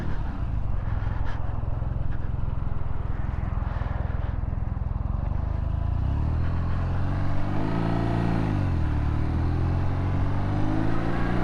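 A BMW R NineT Urban GS motorcycle pulls away in first gear, its boxer engine loud and close with a steady low rumble that rises in pitch as revs climb and shift partway through.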